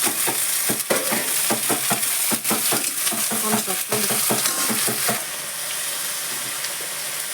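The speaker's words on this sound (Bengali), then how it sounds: "পেঁয়াজ ভাজা হয়ে গেছে, ওলের ডাঁটাটা দিয়ে দেবো।" Elephant foot yam stalks tossed into a pan of fried onion, a bright continuous sizzle with rhythmic stirring scrapes and clinks, easing to a softer steady hiss toward the end.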